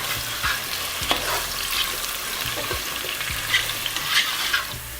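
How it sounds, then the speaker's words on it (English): Carrots sautéing lightly in oil in a pan for chicken and rice, a close, steady sizzle broken by several distinct scrapes and taps of a stirring utensil against the pan. "First we're going to lightly saute the carrots."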